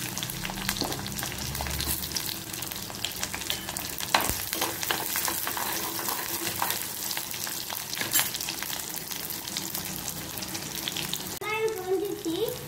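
Onions, with fenugreek and garlic, frying in oil for a banana flower curry, a close continuous sizzle broken by frequent sharp crackles and stirring scrapes.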